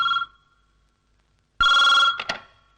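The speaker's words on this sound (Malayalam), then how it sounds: "നീ ആ ഫോൺ നിർത്തേ." A telephone bell rings in two short bursts, a brief trill at the start, then a pause and a louder, longer electric ring near the end, heard alone.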